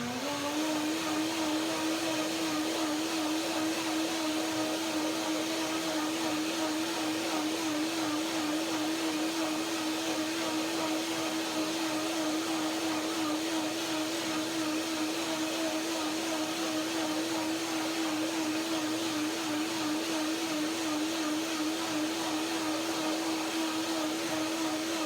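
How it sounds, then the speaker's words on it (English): An electric blender whirs steadily through a hazelnut, persimmon and tangerine cream dressing, a loud, constant motor drone with a slight wavering pitch that runs unbroken for the whole stretch. "First I will blend it"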